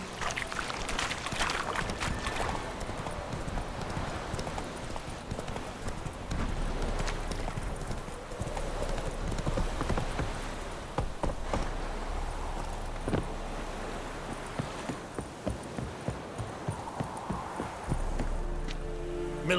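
Hooves of Roach, the horse in The Witcher 3, clatter in a fast, rhythmic clip-clop at a run. The gallop is loud and close and continues for the whole stretch.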